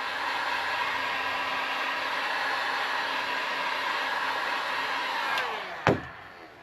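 A heat gun blows a steady loud airy roar while warming a small area of vinyl for stretching, then switches off near the end with a brief clunk.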